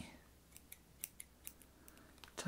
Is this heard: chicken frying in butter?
no